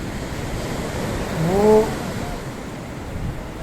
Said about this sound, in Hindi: इस बीच में जो लहरें हैं